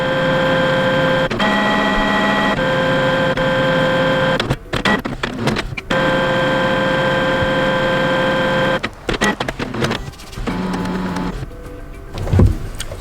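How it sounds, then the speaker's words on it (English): A Canon MG5700 series inkjet printer runs a cleaning cycle: a steady motorized whirring and humming with sustained tonal whines, broken by short clicks and pauses as the mechanism stops and restarts, up close with no talking. "to fast clean your printer, just open the Embeded Web Server of your device"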